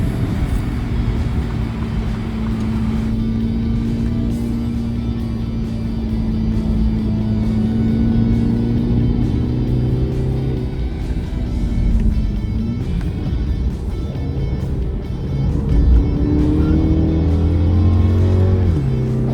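A MINI Countryman S LCI is driven at speed up the winding Genting Highlands road, its engine droning steadily with rising and falling revs through the bends, loud and close, with road roar underneath and no talking.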